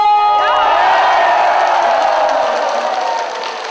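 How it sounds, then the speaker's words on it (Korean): Large outdoor crowd of tens of thousands cheering and shouting at a community song contest concert, a loud sustained roar of voices that gradually fades toward the end. "다시 한번 함성 한번 들어볼까요?"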